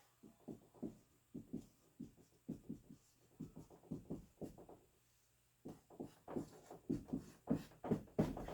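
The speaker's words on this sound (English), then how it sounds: "I'm going to write them out for you one time." Math equations being written out by hand, probably on a board: soft rhythmic scratching strokes come close in short bursts with brief pauses, faint and unaccompanied by talk.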